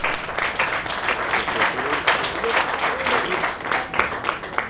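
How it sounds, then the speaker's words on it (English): An audience at a short film awards ceremony applauds, with dense, sustained clapping from many hands that stays steady for the whole stretch and fills the room. "so let's give them a round of applause."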